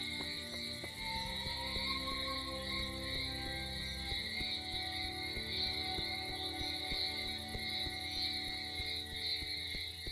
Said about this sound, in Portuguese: vento soprando grama, os grilos, todo som agora é novo.